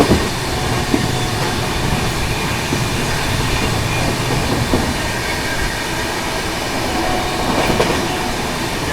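The Duronto Express, Mumbai Central to Nizamuddin, races through Nagda Junction without stopping, a loud, continuous rush of wheels and carriages with a faint rhythmic clatter and no voices.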